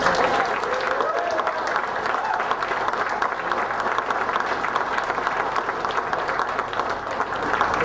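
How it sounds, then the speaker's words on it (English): A crowd at a political victory speech breaks into a round of applause, a steady, full roar of many hands clapping together that holds evenly for several seconds without letting up. "let's give him a round of applause for that."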